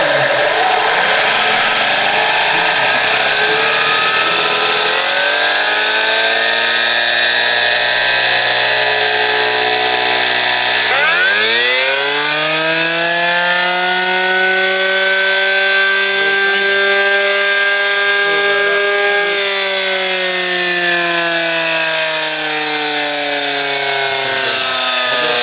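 A small RC motor on a mini dyno with a flywheel gives a loud, steady electric whine that settles, then spools up sharply midway and holds a higher, strained pitch with layered harmonics.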